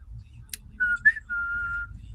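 A fishing whistle is blown in short, clear, high-pitched notes: two brief tones and then one longer sustained tone, close by, with faint background noise and no speech over it.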